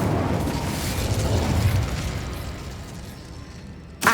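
A fire spell cast in the video game Hogwarts Legacy, heard as a broad whooshing, rumbling burst that fades over several seconds, followed by a sharp new burst right at the end.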